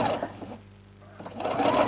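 Sewing machine stitching in bursts, running a feathered quilting ruler back along a line of stitching; steady close mechanical whir that pauses briefly midway then resumes, with no talking.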